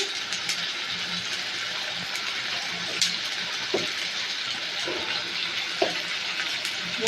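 Masala being stirred and sautéed in a pan with salt added, giving a steady broadband sizzle with a few sharp scrape and stir clicks, moderately close and with no talking.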